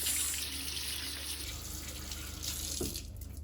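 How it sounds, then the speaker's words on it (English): Tap water runs into a sink as hands are rinsed, a steady close splashing hiss that shifts partway through and tails off near the end. "Make sure we've got all the way up and then give everything a good rinse."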